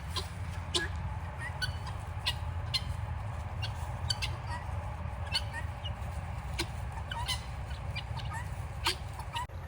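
Guinea fowl give sharp, repeated calls outdoors, brief bursts scattered at irregular intervals over a steady low rumble, some calls nearer and louder than others.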